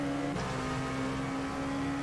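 A race car in the iRacing game at Sebring passes close on the right, a sustained engine drone with a steady tone that shifts slightly as it goes by, constant and fairly loud for two seconds.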